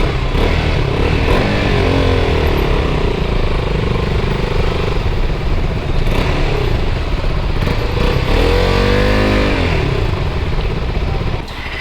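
A KTM RC 200 motorcycle engine sounds close and loud, idling with a steady clatter that is broken by a couple of short revving sweeps.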